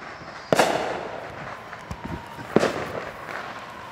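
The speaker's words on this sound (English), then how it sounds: "fireworks are just going to keep on coming and coming and coming" Fireworks at a show burst outdoors at a distance, two prominent booms about two seconds apart with crackling and lighter pops between them over a steady background hum.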